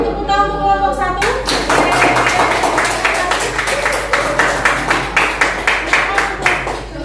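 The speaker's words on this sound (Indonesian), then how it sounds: "Beri tepuk tangan untuk kelompok 1." A classroom group claps for a student team after a lesson on fantasy story texts, a dense burst of many hands starting after a brief moment of talk and continuing steadily, fairly close and loud.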